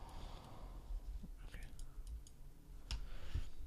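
A few sharp, dry clicks of a computer mouse, spaced irregularly in a quiet room, with soft breathy background noise between them.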